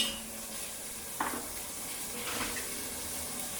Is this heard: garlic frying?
yes